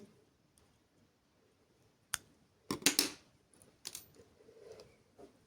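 Small scissors snipping thread while making Turkish needle lace, a couple of sharp close clicks and a brief cluster of snips in an otherwise quiet room, with no talking.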